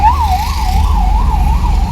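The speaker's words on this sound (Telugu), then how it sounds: "అంబులెన్స్ వస్తుంది, ఎమర్జెన్సీ ఉంది కావచ్చు" Ambulance siren wailing on the road, loud and close, rising and falling in a smooth, regular cycle about twice a second, heard from a vehicle with no one talking.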